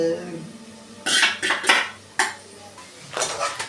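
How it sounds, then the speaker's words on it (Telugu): Metal spoon scraping and clanking against a pot while garam masala and coriander powder are stirred into tomato rice, several bursts of clatter close up with pauses between. "ఈ గరం మసాలా ధనియాల పొడి తర్వాత కారం బాగా అయ్యేలాగా కలుపుకుంటున్నాం"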